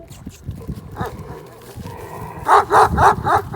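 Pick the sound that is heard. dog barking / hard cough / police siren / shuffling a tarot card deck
dog barking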